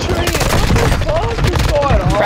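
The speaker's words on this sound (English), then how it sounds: "who's got a fucking sentry gun on that hoe?" Rapid automatic fire from a sentry gun in a video game rattles on steadily throughout, loud and continuous, with excited voices talking over it.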